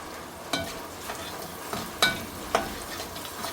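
Cumin seeds frying in a pan with curry leaves for a vegetable kurma, giving a faint low sizzle broken by a few sharp pops and clicks, with no talking.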